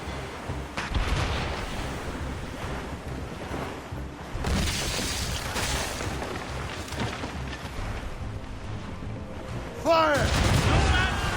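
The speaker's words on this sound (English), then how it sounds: "Ready to fire, sir! Fire!" Ship cannons fire in Assassin's Creed Rogue during a naval battle, a steady barrage of booming shots and crackling impacts under shouted crew voices, with a sharp louder blast near the end.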